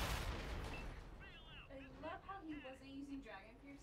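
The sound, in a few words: tank cannon round fired in World of Tanks video game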